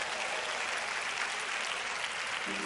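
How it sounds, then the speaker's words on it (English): Steady, dense applause from a church audience at a Christmas concert in a cathedral, sustained and evenly loud throughout with no voices over it. "Let's give all of them a rousing applause."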